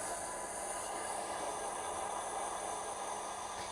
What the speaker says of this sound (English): Does sound like a bigger loco than it should.